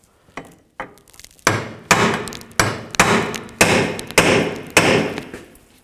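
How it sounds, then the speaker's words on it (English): A hammer drives a punch against the ball joint stud on a 1997–2006 BMW 325xi front inner lower control arm, ringing out in a series of about nine sharp metallic strikes. The first few are lighter, then evenly spaced heavy blows follow, loud and close. "So I'm just going to take a punch and a hammer and just hit it a couple times."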